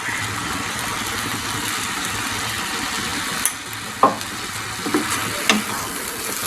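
Mutton karahi sizzling and frying in desi ghee, a steady close hiss of hot fat with a few soft clinks of a spoon against the pan toward the end.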